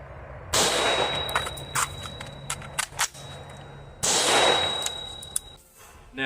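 A rifle reload with the gun tucked under the armpit and the magazine stripped out, heard as sharp metallic clacks and clangs in two loud bursts with scattered clicks between them, close by.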